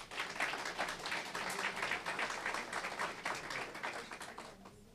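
Steady applause from a seated audience welcoming a guest, the director of TEC Campus, to the panel at an international forum on foreign trade and innovation; dense, even clapping that holds for several seconds at moderate distance, then starts thinning at the end.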